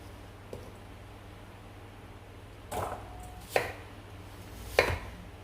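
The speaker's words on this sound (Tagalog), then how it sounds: "And then, slice natin into cubes." A kitchen knife cuts apples into cubes on a cutting board, giving a few sharp, isolated chops spaced seconds apart over a steady low background hiss.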